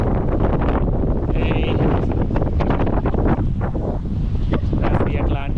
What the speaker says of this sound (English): It's not too cold, but it's really, really windy